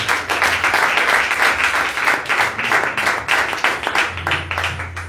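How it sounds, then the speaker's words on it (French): Audience applause at a press conference presenting a singer's new maxi-single, a dense, energetic burst of many hands clapping continuously for several seconds, with a low hum underneath. "Est-ce qu'on peut applaudir très très fort?"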